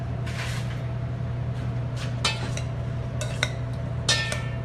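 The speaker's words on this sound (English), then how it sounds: "let me just give it a stir" A pot of food is stirred during cooking, with a utensil scraping and knocking against the pot in several short bursts over a low steady hum, with no talking.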